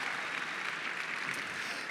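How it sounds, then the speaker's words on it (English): A dinner audience applauds in a steady, dense round of clapping that fills the room evenly, with no talk over it. "Let's give another round of applause for Emmett Schelling."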